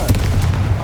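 A Confringo fire spell bursts in Hogwarts Legacy as a loud, dense blast with a deep rumbling low end that sustains through the short moment.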